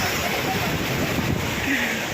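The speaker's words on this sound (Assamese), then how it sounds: "ফাইনেলি এতিয়া মই সাগৰ দেখিলোঁ ওচৰতে আছোঁ" Sea surf at the shore near the Jagannath temple coast, a steady broadband wash of waves with wind buffeting the microphone, loud and continuous throughout.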